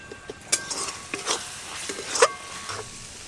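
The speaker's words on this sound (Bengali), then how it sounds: "মশলা কিন্তু বেশ ভালো করে কষানো হয়ে গেছে" Masala sautéed in a pan for chana masala, with a spatula stirring and scraping in uneven strokes over a faint sizzle, close and soft.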